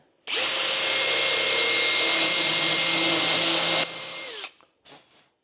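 A power drill whines steadily at high speed for about four seconds as its bit grinds into a hardened steel hammer, then winds down and stops, followed by a brief faint scrape.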